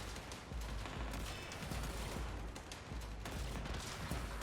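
Dense, continuous gunfire from the Warframe video game rattles on without a break, a heavy wash of rapid shots and explosions filling the whole stretch at a steady loud level.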